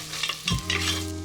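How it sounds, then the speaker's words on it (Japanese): Carrots get stirred in a pot of melted butter over low heat, giving a close, soft scraping and gentle sizzle with a few distinct stir strokes and no voices. "軽く混ぜていきまして、"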